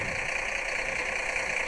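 An old tractor engine idles steadily, giving off smoke, with a faint, continuous mid-pitched rumble heard from a short distance and no speech.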